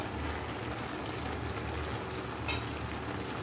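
Ripe chopped tomatoes go into a pan of cooking winter vegetables, giving a soft, continuous sizzle and crackle, with a brief louder splutter near the end and no voices.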